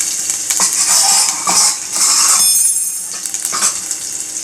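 Ginger-chili paste stirred and sautéed in a hot pan, with a metal spoon scraping and clinking against the pan in short strokes over a light sizzle, close and loud, no voices.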